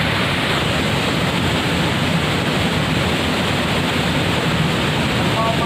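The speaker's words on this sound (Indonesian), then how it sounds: "Mau mandi di air terjun ini, maka harus kita lebih hati-hati lagi karena airnya sangat deras banget." A powerful, fast-flowing waterfall roars as a loud, dense, unbroken rush of water close by, with no clear voices over it.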